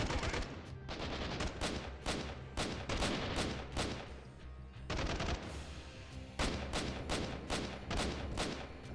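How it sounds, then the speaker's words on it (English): In the Freeman Guerrilla Warfare PC game, rapid bursts of gunfire crack in a dense, rhythmic string of loud blasts, with a grenade going off among the shots during a town siege. "There's grenade going off."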